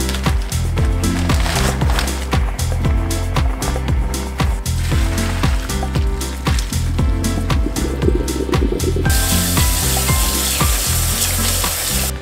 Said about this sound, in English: Now we have to get ready to fry this, and then we can eat it.